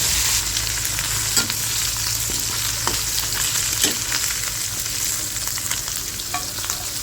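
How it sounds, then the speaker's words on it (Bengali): Tangra fish coated in salt and turmeric fry loudly in oil, a steady close sizzle broken by frequent crackles and spits, with no voices. "তো ট্যাংরা মাছগুলিকে এখন লবণ হলুদ দিয়ে একটু তেল দিয়ে দিলাম, ভালো করে ভেজে নেব।"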